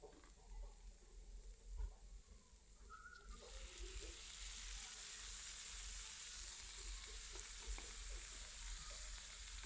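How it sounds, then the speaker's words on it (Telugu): Chopped tomatoes go into a pan of moong dal, which sizzles and fries steadily at a moderate level with occasional stirring clinks and no voices. "ఇప్పుడు ఇందులోకి కట్ చేసి పెట్టుకున్న టమాటోస్ వేయండి"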